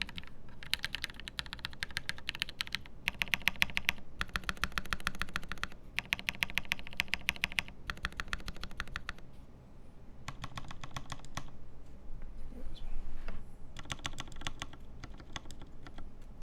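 Rapid clattering keystrokes on a modded mechanical computer keyboard, played close and clear in bursts of several seconds separated by short pauses, with a steady low background hum and no talking.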